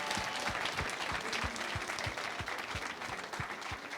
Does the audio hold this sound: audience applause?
yes